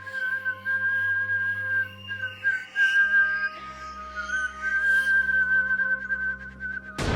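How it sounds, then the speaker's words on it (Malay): A soft, thin whistle holds a steady high pitch through most of the clip, breaking briefly midway, over quiet background noise. "terdengar satu siulan yang agak halus je bunyi dia"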